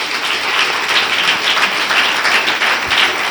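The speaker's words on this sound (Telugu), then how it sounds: "మన బంగారు తండ్రికి చప్పట్లు కొట్టి." A church congregation applauds at a Bible sermon gathering in Hyderabad, a loud, close and steady burst of many hands clapping together without any speech.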